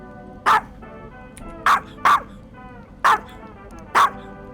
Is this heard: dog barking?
yes